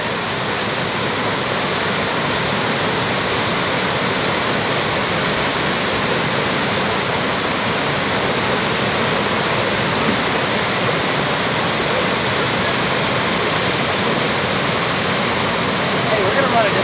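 Valley Falls waterfall on the Tygart River roars steadily, a dense, unbroken rush of pouring water close by, with voices talking faintly beneath the torrent.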